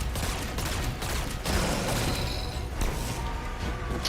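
Rapid, continuous automatic gunfire from Unravel Rounds in Destiny 2 fills the whole stretch, a dense loud crackling stream with small surges and no pauses.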